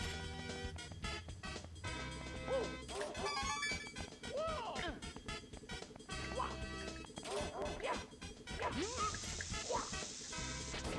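A mad dog enemy in Super Mario 64 barks and yips amid crashes, whacks and busy game sound effects over background music.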